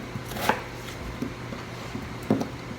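Potatoes being rough-chopped with a knife on a cutting board for lentil soup, a handful of light, irregular knocks spread over a few seconds, close and fairly soft, with no talking.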